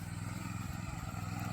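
A Swaraj Code mini tractor engine running, a close steady low chugging drone with a clattering mechanical texture.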